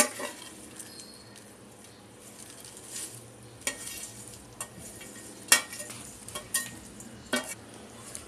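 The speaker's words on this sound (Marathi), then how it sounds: "आता ह्याच्यामध्ये आपण ही भेंडी सोडूया पहिली पूर्ण" Okra drops into a pan of hot oil and fries with a steady sizzle, broken by scraping stirs and sharp utensil clinks against the pan, close up and with no talk.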